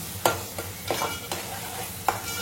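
Garlic sautés in a hot pan under a steady sizzle, punctuated by about five scraping strokes of a spatula at an uneven pace.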